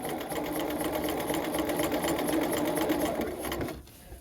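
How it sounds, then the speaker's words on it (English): A sewing machine runs steadily, stitching an invisible zipper in one continuous close, loud whir that stops abruptly near the end. "Okay, keep sewing."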